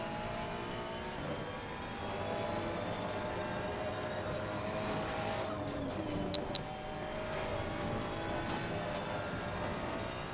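Race car in Assetto Corsa Competizione running at steady high revs through corners with a bit of oversteer and understeer, a continuous loud engine drone with a couple of brief sharp clicks partway through.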